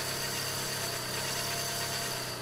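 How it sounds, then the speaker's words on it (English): Car engine with a damaged transmission in the DayZ video game, running as a steady droning, vibrating hum with a faint knocking texture, continuous and close, with no talk. "it sounds like the transmission shot."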